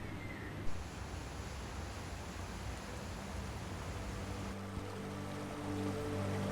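River water rushing and churning below the base of a dam, a steady broadband roar heard close with no talk, swelling slightly toward the end.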